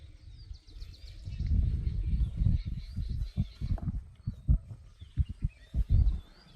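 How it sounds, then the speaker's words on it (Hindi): Birds chirping in a forest near Rajaji National Park after a nearby fire, thin high calls scattered above heavy close rustling and thumping movement that dominates the clip. "अभी मैंने बोला कि चिड़ियों की चहचहाट नहीं आ रही है और बर्ड्स आ गई"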